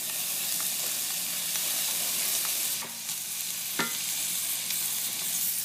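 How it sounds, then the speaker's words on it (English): A medium white onion and three cloves of garlic sauté in a pan, browning with a steady close sizzle and hiss throughout, broken by an occasional scrape or stir, with no talking. "I've been sauteing down one medium white onion for probably about 6-7 minutes"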